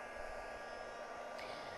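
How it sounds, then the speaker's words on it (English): A heat tool for candle making blows hot air in a steady, close, even rushing hiss with a faint motor hum, heard alone throughout. "I'm going to get my heat tool quite warm, and you can use it with a hairdryer on hot."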